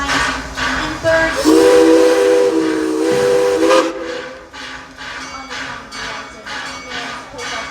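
Steam whistle on the Six Flags St. Louis Tommy G. Robertson railroad heading up a hill, one long loud blast with hissing steam and rhythmic chuffing of the engine after it.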